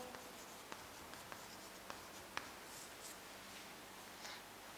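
Pen writing on paper during a math lecture on double integrals, soft scratching strokes with light taps, quiet and close.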